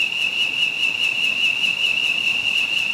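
A whistle fixed to a ceiling fan sounds a steady, high, continuous tone blown by the fan's airflow, with a slight pulsing rhythm from the turning blades, loud and close with no talking.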